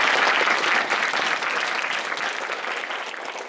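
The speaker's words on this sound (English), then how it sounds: "please give a round of applause for this sponsor" Loud, steady applause from a crowd fills the moment, gradually easing slightly toward the end.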